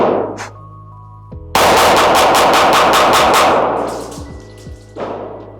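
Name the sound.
pistol gunshots, PSA Dagger Micro frame with Glock 43X slide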